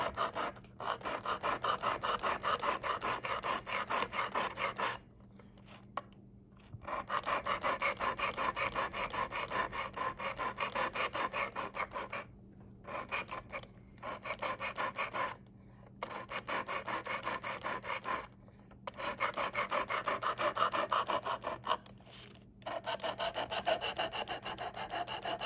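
A Damascus steel Civivi knife is sharpened on a Work Sharp Precision Adjust sharpener, giving a steady rasping scrape in long repeated strokes separated by brief pauses, close and fairly loud with no talking.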